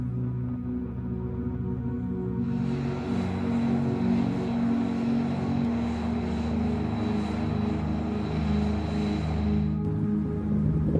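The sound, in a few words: F-22 Raptor fighter jet flying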